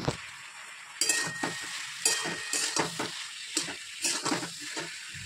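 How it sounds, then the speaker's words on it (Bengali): Mixed vegetables fry with salt in a pan, a light sizzle punctuated by repeated scraping and clinking stirs of a utensil against the pan, close and moderately quiet. "এখন এই শুধু নুন দিয়ে ভাজা ভাজা করছি"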